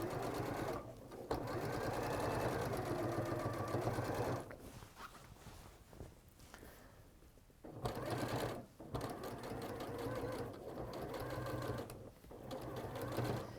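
A sewing machine runs in long, steady bursts while top stitching a few millimetres from a fabric edge, whirring close by with several short pauses between runs.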